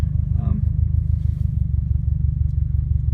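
A 2017 Subaru WRX STI fitted with an Invidia R400 cat-back exhaust idles with a deep, steady low burble and a slight rhythmic pulse, fairly loud and close, with no one talking.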